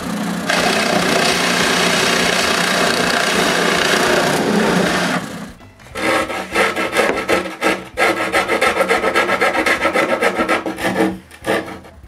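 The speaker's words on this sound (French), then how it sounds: "Je perce aussi des trous pour faire une ouverture où sortira la mèche de toupie." Drill boring a row of holes through wood to open a slot where a router bit will protrude, building a router table; steady close grinding and rasping for about five seconds, then a choppier stretch of cutting with brief gaps and stops.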